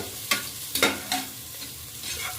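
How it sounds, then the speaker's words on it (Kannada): Green chillies frying in a pan for soya pulao, with a few bursts of sizzling and stirring spaced through a quiet, close kitchen background; no one speaks. "3 ಹಸಿಮೆಣ್ಸಿಕಾಯಿ ಹಾಕೋತಾ ಇದ್ದೀವಿ. ಅದನ್ನು ಸ್ವಲ್ಪ ಫ್ರೈ ಮಾಡ್ಕೋಬೇಕು."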